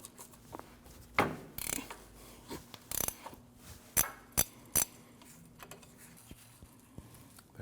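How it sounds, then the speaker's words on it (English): A ratchet wrench takes a 19mm nut off the ball joint of a 2012-2016 Honda CR-V front control arm, giving scattered metallic clicks, ratcheting and clinks of tools and parts, close by, with no talking. "Now you need to remove this nut. That nut is a 19mm."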